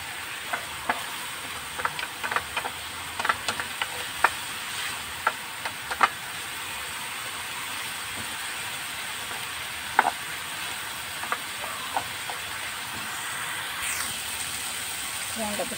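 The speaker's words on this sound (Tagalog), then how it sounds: "Haluin lamang natin ito." Vegetables sizzling in a pan while being stirred, with a steady frying hiss throughout and frequent scraping clicks of the spoon against the pan at close range.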